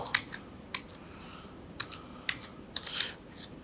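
Scattered keystrokes on a computer keyboard while text is retyped in the Canva design tool, a few sharp isolated clicks spaced irregularly over a quiet room hum.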